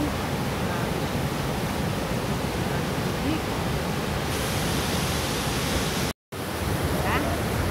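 Loud, steady roar of rushing water at the Johnston Canyon waterfall, a dense unbroken wash close by that runs throughout, with a brief dropout near the end.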